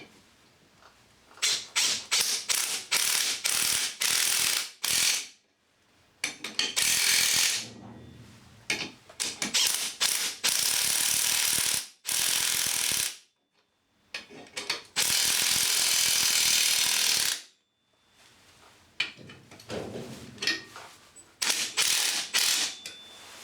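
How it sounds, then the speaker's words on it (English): Impact wrench driving anchor screws into a concrete wall or floor, heard as loud ratcheting hammering bursts of a few seconds each, repeated many times with short pauses between and no talking. "we're just going to nip those up using a impact wrench"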